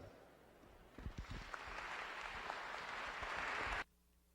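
Forum audience applauding in a hall, faint at first and then swelling into a steady, even patter of many hands that holds for a few seconds before stopping abruptly.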